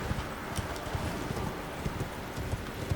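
Horse hooves galloping in Elden Ring sound as a rapid, rhythmic clip-clop of repeated thuds over a soft wind-like background, moderately quiet and steady with no talk.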